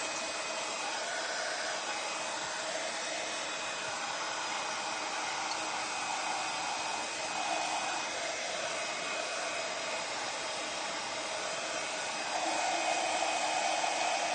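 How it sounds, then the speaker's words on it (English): A hair dryer runs steadily and continuously for the whole stretch, blowing on a decoupaged ceramic vase, a constant close whooshing hum with slight shifts in tone as it moves, with no voices. "I am now just going to dry this."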